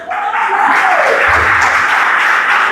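A church congregation claps together during a worship service, a dense, steady wash of applause filling the room for the whole stretch, loud and close, with no speech over it.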